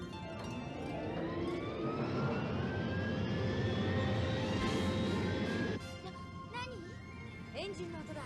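The submarine Nautilus's engine starts up in an anime scene, a loud rising mechanical whine with sweeping tones that swells and then cuts off abruptly, followed by quieter machinery.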